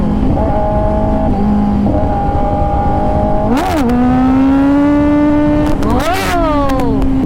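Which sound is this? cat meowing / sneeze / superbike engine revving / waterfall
superbike engine revving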